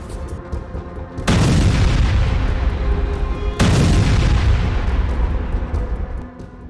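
Two heavy booming blasts from bombs and missile strikes in Hezbollah attacks on Israel, each a sudden loud detonation followed by a long rumbling decay, the second arriving about two seconds after the first.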